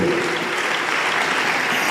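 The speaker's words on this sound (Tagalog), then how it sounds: "Pumalakpak muna tayo sa ating mahal na Panginoon kung nandyan kayo." A church congregation claps in dense, continuous applause that stays loud and even throughout.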